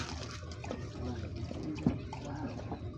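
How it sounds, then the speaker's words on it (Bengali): A dog laps water up close, quick wet slurps with a small splash partway through. "তুই খাবারের পরে পানি খাইতেছস"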